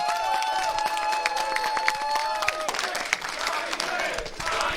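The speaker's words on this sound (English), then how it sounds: "he deserves a special round of applause" Applause from a crowd, steady clapping throughout with some cheering mixed in, fairly close and lively.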